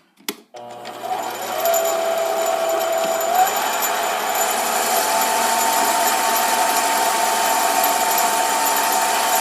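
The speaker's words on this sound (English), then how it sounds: "I'm going to just probably take one final cut here of about 8 thousandths" A mini lathe takes a light finishing cut on a small metal part, starting with a brief clunk and then running as a steady, loud, close mechanical whine with a faint tone that shifts slightly partway through.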